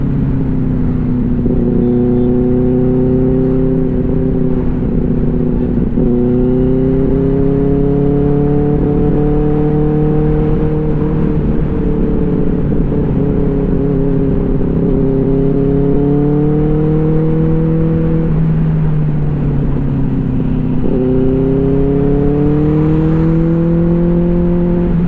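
A Benelli 600i motorcycle with a loud aftermarket exhaust rides a cold road at night, its engine droning close and steady while the pitch climbs and drops repeatedly through gear changes, with no talking.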